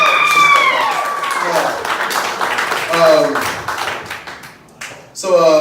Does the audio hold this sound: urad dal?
no